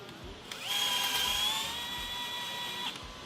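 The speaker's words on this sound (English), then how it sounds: "I'm gonna tap it with a drill." A power drill being used to tap a threaded hole whines steadily at close range, spinning up sharply and holding a sustained high-pitched tone for about two seconds before cutting off.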